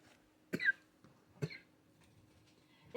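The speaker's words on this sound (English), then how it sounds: "It's a non-stop cough." Two sharp, dry coughs from one person, close by in a quiet room, spaced about a second apart, with a third starting at the very end.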